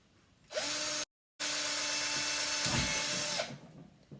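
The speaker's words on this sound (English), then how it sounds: "We're going to drill holes." A power drill whirs steadily at close range, briefly stops, then starts again and runs for about two more seconds before winding down.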